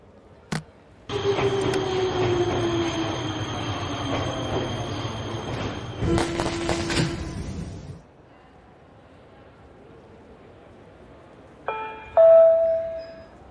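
A train running in the video game Nobodies: Silent Blood: a loud, steady rumble with a high whine and rail squeal, then a burst of rattling clatter, a quiet lull and a short tonal chime near the end.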